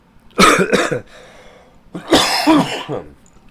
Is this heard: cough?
yes